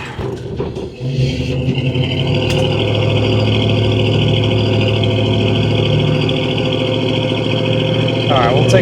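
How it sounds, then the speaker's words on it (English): A 1968 Ford Torino with a 289 V8 and dual exhaust through knockoff Flowmaster mufflers idles nearby in a steady, full low rumble that holds even throughout after a brief rustle at the start. "it does have a nice dual exhaust system into kind of like a knockoff Flowmaster, so it sounds good behind the 289"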